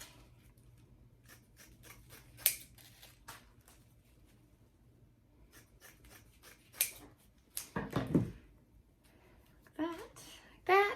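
Orange and lime mesh being cut with scissors for a witch hat wreath: scattered crisp snips and rustles of the mesh, close and fairly quiet, with a soft voice in the background.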